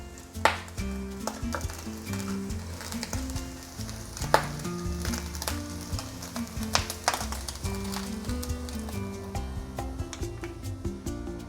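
Cubed pork sizzles and fries in a spicy masala for festive sorpotel, a steady crackling hiss with scattered sharp pops and stirring clatters running throughout.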